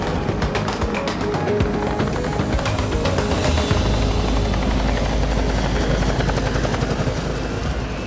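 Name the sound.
Eurocopter EC-665 Tiger military helicopter flying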